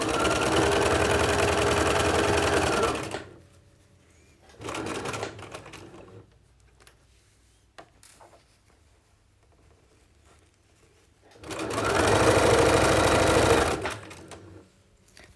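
A sewing machine stitches a chemise in loud, steady whirring runs: a long burst, a short one, quiet handling pauses, then another sustained run close by.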